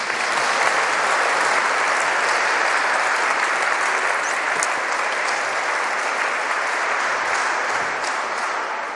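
A church congregation at a Mother's Day confirmation Mass applauds the mothers, with dense, steady clapping that fills the room and holds at an even loudness throughout.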